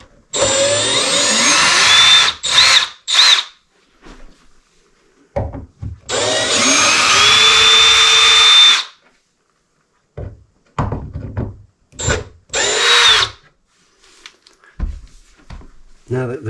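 A power driver whirs in several bursts, long and short, backing Phillips head screws out of a piano pedal assembly, with small clunks and pauses between runs.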